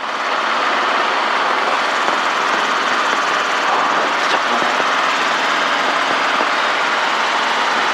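Loud, steady broadband roar of a helicopter in flight, heard continuously and close throughout with no pauses or talking.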